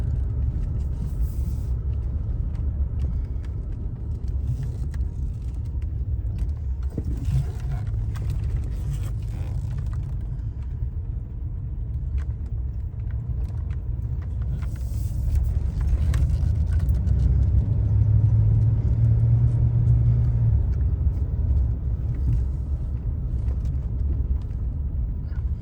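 A 1982 Imperial with its original electronic fuel injection being driven, a steady low engine and road rumble heard from inside the car, swelling slightly louder midway, with no talking.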